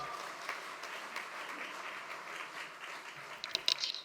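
A church congregation at a Korean worship service applauds to welcome an assistant pastor to the pulpit. The clapping is even and sustained, moderately distant, with a few sharper, closer claps near the end.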